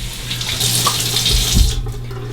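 Tap water runs steadily into a sink as a man rinses his face after a safety razor shave, a continuous close splashing flow with a brief louder gush near the end.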